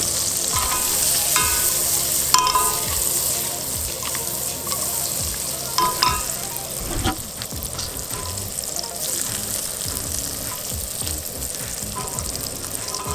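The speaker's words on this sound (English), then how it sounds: "sausage going in." Sausage frying in a pan on a single burner camping stove, a loud steady sizzle and crackle with occasional scraping stirs, close up and continuous.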